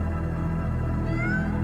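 A cat meows over a steady musical bed in the animated film Soul, drawn-out and clear, ending abruptly after under two seconds.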